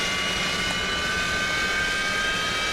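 The Yak-40's AI-25 jet engine spools up in a flight simulator, a loud steady turbine whine with a high sustained tone over a broad rushing roar, alone and continuous throughout.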